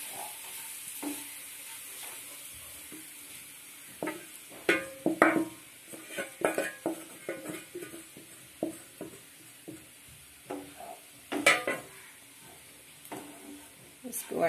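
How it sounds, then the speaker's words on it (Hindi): Leftover roti poha stirred into roasted garam masala in a pan, with a soft background sizzle under repeated scraping and stirring clatters of a spoon against the pan. "मेरा मसाला भी भून गया, मैं पोहे को डाल दी।"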